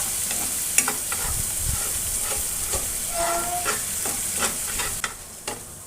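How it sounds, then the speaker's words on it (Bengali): Spices with turmeric stir-fry in a pan over medium to low flame, a continuous close sizzle broken by repeated scraping strokes and small taps of the spatula, with no voices. "মশলাটা মিডিয়াম টু লো ফ্লেমে রেখে কিছুক্ষণ সময়ের জন্য কষিয়ে নেব।"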